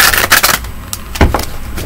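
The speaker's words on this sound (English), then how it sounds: "Last shuffle." Tarot cards being shuffled by hand, a quick run of close, papery riffling and slapping bursts with no talk.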